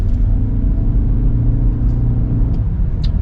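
A 2020 Toyota Prius Limited accelerates, heard from inside as a steady low road rumble and hum that holds throughout, loud and close with no talk.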